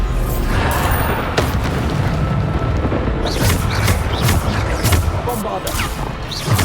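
Bombarda explosion spells in Hogwarts Legacy crash and boom continuously amid a dense, loud battle din, with repeated sharp impacts and a voice speaking over the chaos.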